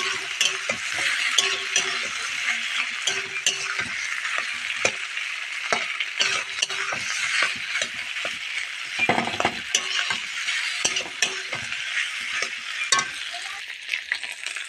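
Potatoes fry in hot oil with chopped garlic and ginger for aloo chop, a steady loud sizzle broken by frequent stirring scrapes and clinks of a utensil against the pan.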